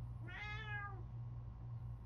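A single drawn-out meow from a cat in The Sims 3 video game, soft and clear over a steady low hum, with no one talking.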